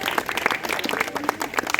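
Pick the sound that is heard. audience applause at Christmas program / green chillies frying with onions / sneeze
audience applause at Christmas program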